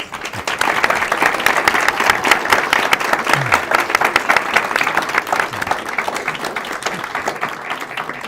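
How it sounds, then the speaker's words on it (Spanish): An audience breaks into loud, sustained applause, dense clapping that holds steady for several seconds close to the microphone. "Quiero que le demos un gran aplauso."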